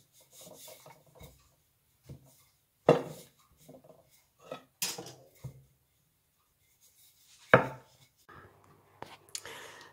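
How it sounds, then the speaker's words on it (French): Knife slicing through rolled pain au chocolat dough, a few distinct short cuts and scrapes against a board, close and fairly quiet with gaps of near silence between strokes. "Cette pâte, je la coupe en deux."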